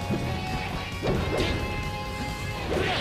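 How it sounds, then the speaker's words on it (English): Forward smash attacks land in a Super Smash Bros. Melee match between Marth and Captain Falcon on Battlefield, giving a few heavy crashing hits over steady crowd and game noise. "he's just getting hit by forward smashes"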